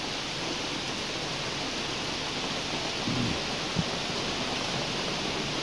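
Heavy rain pours down steadily in a continuous dense wash of noise outdoors, with a faint low thump partway through and no talking.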